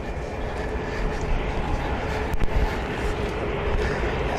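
An aircraft takes off from runway 10L at Columbus CMH airport, a broad, continuous engine roar heard from some distance, steady with a slight swell midway.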